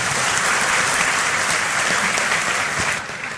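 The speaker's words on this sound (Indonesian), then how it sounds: "kita beri tepuk tangan Bapak" Loud, dense applause from an audience at an Islamic study gathering fills the space evenly, a continuous roar of clapping that eases slightly near the end.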